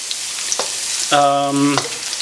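Sambal matah sizzles steadily in hot oil in a pan, a continuous bright frying hiss with small crackles, joined midway by a short tonal beep-like sound.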